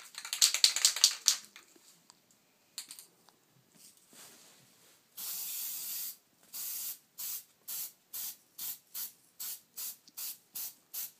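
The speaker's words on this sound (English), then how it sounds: "We're gonna spray the outlet" Glow-in-the-dark spray paint hisses from a can onto an electrical outlet in a series of bursts, first a long steady spray, then about a dozen short rhythmic sprays close to the microphone, with no talk.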